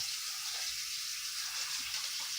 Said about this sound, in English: even with some cold water running through it